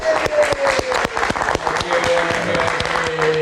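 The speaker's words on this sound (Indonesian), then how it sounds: "kita kasih tepuk tangan dulu buat Otong" A live audience at a variety show applauds, a steady wash of clapping with cheering voices mixed in and a tonal whistle or synth line running underneath.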